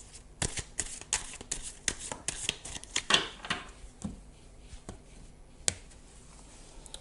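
Tarot cards slap and slide as one is laid over another during a reading, a run of crisp, close, dry snaps and shuffles in quiet surroundings, the strokes bunched early and then thinning out.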